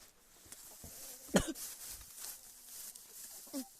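A single sharp cough, followed by a quieter throat-clearing sound, in a quiet room.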